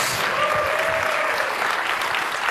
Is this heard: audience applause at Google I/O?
yes